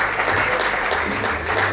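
Steady applause from a festival audience for the contestants, with many hands clapping continuously and evenly and no talk over it.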